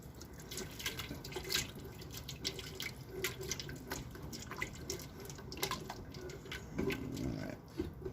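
Water running from a kitchen tap into a pot while marinara is being made, a steady splashing stream close by with small drips and clatter.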